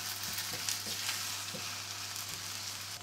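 Onions and garlic frying in a pan until they caramelize, with a steady close sizzle and a few soft stirring sounds and no talk.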